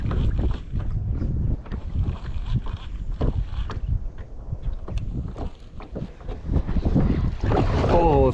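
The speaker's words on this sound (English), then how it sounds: "A little windier than the forecast said it was gonna be today." Steady wind gusts buffet the microphone while out on open water in a kayak, a constant broadband rumble and roar that rises and falls throughout, with small splashes and faint movement underneath and no talking.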